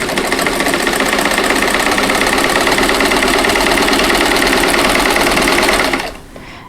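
A sewing machine, similar to a Singer 1591, runs steadily and loudly at an even buzzing pace for about six seconds, then stops, leaving a faint hum.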